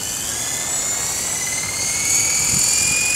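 An ALIGN RC helicopter holds a steady hover, its rotor and motor giving a continuous high-pitched whine and whoosh at constant level, growing slightly louder near the end, with no talk.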